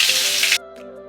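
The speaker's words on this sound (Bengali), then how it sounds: "ফোড়নে দিচ্ছি তেজপাতা আর রসুন থেঁতো।" Bay leaf and crushed garlic hit hot oil with a loud, bright sizzle that stops abruptly about halfway, leaving a quiet tonal background.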